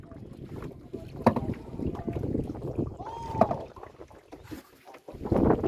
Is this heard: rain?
no